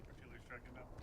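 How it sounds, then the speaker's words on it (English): Artillery fire in a World War II style video game lands as one loud, heavy boom at the very end, after a stretch of faint ambient sound. "Artillery strike called in on A network."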